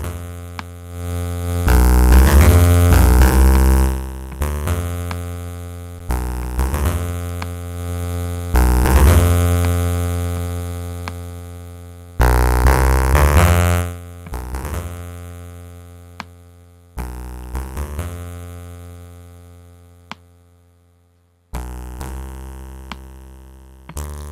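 Native Instruments Kontour synth in Reaktor played with drive, distortion and foldback, harsh buzzy sustained chords in repeated bursts that cut off and decay, alone without talk.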